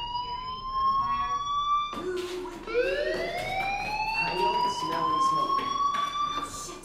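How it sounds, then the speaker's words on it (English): School fire alarm in the video game Life is Strange, a loud electronic siren wailing in rising and falling sweeps that restarts partway through, with faint voices underneath. "Hey, do you hear that fire alarm?"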